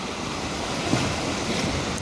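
Sea waves wash onto the southern beach at Kiten in winter, a loud, continuous rolling surf roar mixed with buffeting wind across the microphone, with no voices.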